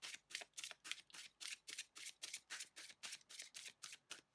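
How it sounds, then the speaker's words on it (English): Tarot cards are shuffled in a quick, even rhythm of about sixteen crisp riffles, faint and close by, with no talking. "How can I best shuffle for my pile twos?"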